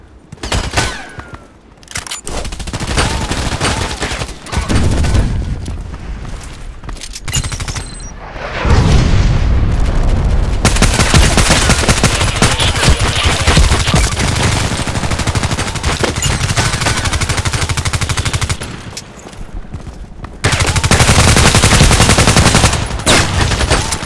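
Sustained gunfire from an MK14 EBR rifle in the shooter Contract Wars, with loud broadband bursts throughout and repeated rapid volleys mixed with single heavy shots in a close combat setting.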